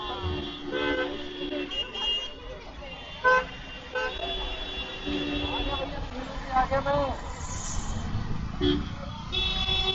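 Busy Old Delhi road traffic in India, with several short car horn toots and honks sounding over a steady engine rumble while people talk nearby.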